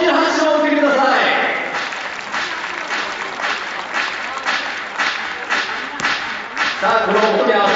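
A crowd applauds loudly for the Korea and Dominican Republic teams, the clapping dense at first and then thinning into scattered claps, with voices speaking over it at the start and end.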